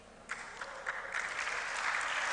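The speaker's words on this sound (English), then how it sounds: "Applause to Miss Siti Fauzia." Audience applause after a presentation at an international conference on event tourism, starting with a few claps and swelling into steady, moderately distant clapping.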